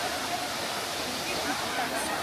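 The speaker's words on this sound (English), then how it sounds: "we found a waterfall, and it is even more cooler over here" A waterfall in Munnar, Kerala roars as a dense, steady rush of water, loud and continuous with no breaks.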